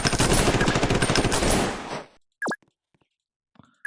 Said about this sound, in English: These gunshots are deafening when the game is as loud as it is.